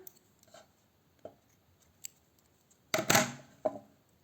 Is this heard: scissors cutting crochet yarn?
yes